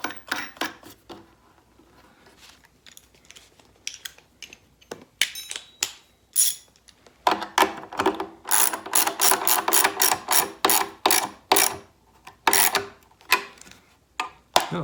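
A ratchet wrench drives a 5/16 bolt through a 2x4 lumber bed frame, its pawl clicking in rapid bursts of short strokes that grow louder and denser after a quiet start, with no talk.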